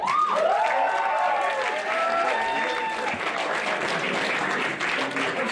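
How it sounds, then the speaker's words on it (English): Round of applause at a school talent night for a performer, steady clapping with scattered cheers and crowd noise, a voice briefly audible early on. "So another round of applause for Ahmed."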